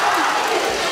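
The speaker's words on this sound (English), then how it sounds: "And listen to the crowd, Mike." Crowd roaring at a women's bare knuckle fight in Denver, a brief burst of loud, dense cheering and shouting that fills the arena without a break.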